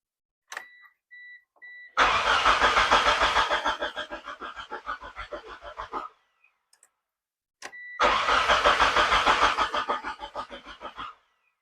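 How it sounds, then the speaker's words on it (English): A Mitsubishi Eclipse with a suspected bad fuel regulator cranks twice after a few dashboard chimes; each attempt is a loud, steady starter whir lasting several seconds without firing, close by and with no talking. "let's go ahead and try and crank it and see if we get fuel"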